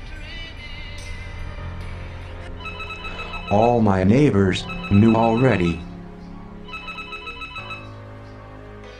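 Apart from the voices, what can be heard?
telephone ringing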